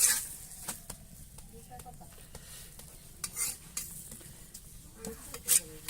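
Paratha fries in oil in a pan, a low sizzle under scattered spatula scrapes and clinks of cookware, with faint background voices now and then.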